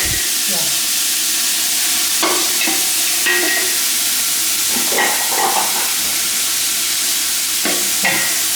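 Cured pork and dried shrimp stir-frying in a wok for turnip cake, a loud constant sizzle and hiss with repeated spatula scrapes and clangs against the metal.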